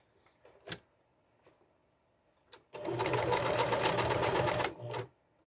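A sewing machine stitches the hem of a curtain panel. A few faint ticks come first, then a loud, close, steady whirring run of about two seconds that stops abruptly.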